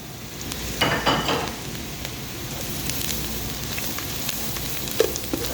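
Onions fry in a pan as salt, red chili, turmeric and coriander are stirred in, giving a steady sizzle with a few louder scraping bursts of stirring near the start, without any talk.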